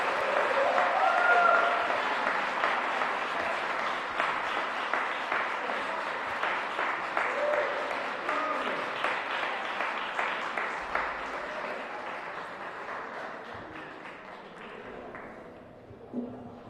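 A seated audience at a Black History Month celebration in the DC Council chamber applauds after a performance, a steady wash of clapping that holds for most of the stretch and then thins out and fades near the end.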